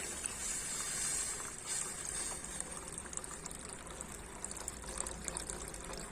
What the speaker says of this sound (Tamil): கரைச்சி வச்சிருக்க புளியை சேர்த்துக்கிறேன்